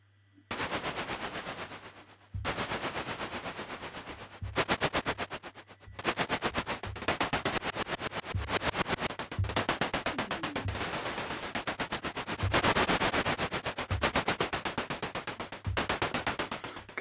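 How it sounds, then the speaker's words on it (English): Noise-based drum hits from a Moog Model 15 modular synthesizer, loud rapid bursts of hissing noise pulsing in fast rhythmic runs with short gaps between phrases, no voices. "so now we're getting some sort of drum sounds"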